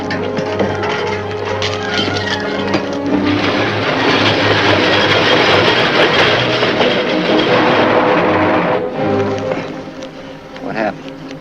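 A heavy train rumbles steadily across a wooden trestle near a river, a loud, continuous mechanical roar and clatter that swells in the middle and fades toward the end.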